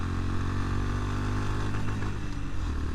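A Honda GB350S motorcycle's 350cc single-cylinder engine revs hard toward the limiter in second gear, a loud, close, steady droning roar with harmonic buzz that wavers near the top.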